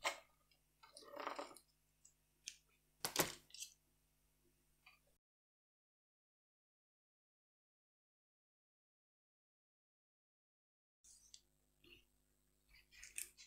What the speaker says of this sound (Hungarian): Ezt mindjárt visszavágom egy picit a ollóval,